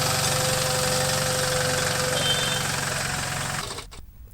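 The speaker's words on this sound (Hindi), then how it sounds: "कलेक्टर राजेंद्र भट्ट ने मिनी ट्रैक्टर में लगे सैनिटाइजेशन मशीन का निरीक्षण किया।" The engine of a sanitizing machine mounted on a mini tractor runs with a steady, knocking idle close by, then cuts off abruptly near the end.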